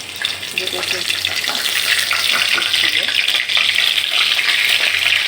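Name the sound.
vegetables frying in hot mustard oil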